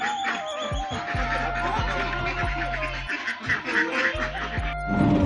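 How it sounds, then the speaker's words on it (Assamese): A duck quacking in a rural village yard near a pond during Magh Bihu, loud repeated honking quacks in irregular bursts close by, with faint background voices. "এতিয়া হাঁহটো মাতি আছে"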